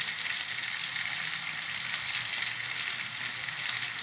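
Brick pastries filled with cheese and meat fry in hot oil, giving a steady, dense sizzle and crackle up close with no talking.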